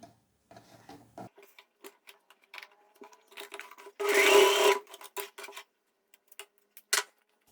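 A domestic sewing machine runs one short, fast burst of stitching to tack a buttonhole loop on a viscose linen jumpsuit, surrounded by quiet clicks and fabric handling.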